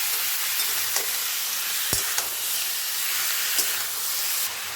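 Yogurt-marinated chicken fries with onions in a pot for chicken pulao, producing a steady, hissing sizzle with occasional sharp knocks of a spoon against the pot.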